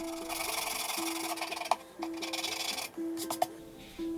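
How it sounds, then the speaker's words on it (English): A wooden bridge on a 1948 Harmony ukulele is sanded with sandpaper in close, rhythmic back-and-forth strokes, a dry raspy rubbing with short pauses between passes and a couple of light knocks. "Then I'll come back with sandpaper in progressively fine grades to sand it nice and smooth."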